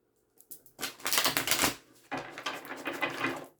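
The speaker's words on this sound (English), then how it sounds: "We'll give the deck a good shuffle." A deck of tarot cards being shuffled up close: a quick riffle, a brief pause, then a longer rapid flutter of cards riffling together.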